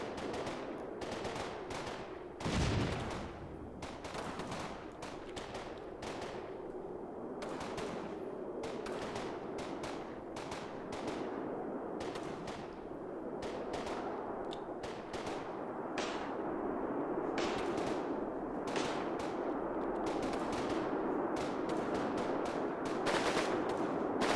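Machine gun fire from the video game Combat Mission, rapid bursts of rattling shots repeating steadily over the whole stretch, fairly quiet and even, with occasional louder single blasts.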